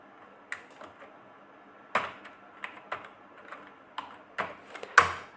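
Someone types Bangla in Microsoft Word on a computer keyboard, with a handful of crisp, irregular key clicks heard close and alone in a quiet room.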